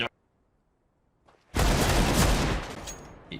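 Counter-Strike Dust 2 gunfire erupts after a quiet moment: a dense, loud burst of rapid shots and impacts that fills the rest of the stretch, with a brief crack at the very start.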